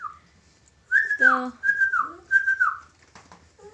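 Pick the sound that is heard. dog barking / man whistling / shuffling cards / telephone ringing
man whistling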